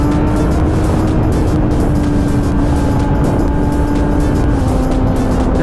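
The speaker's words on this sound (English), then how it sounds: "this auto blip is too good" A 2017 Kawasaki ZX10R motorcycle is ridden with its quick shifter, its engine a loud, continuous drone with a steady pitched tone under heavy wind roar, with brief shifts in pitch as gears change.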